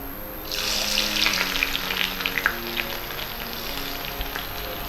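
Steady sizzling of onion tempering frying in a pan, with a continuous hiss and scattered crackles throughout, close and moderately loud.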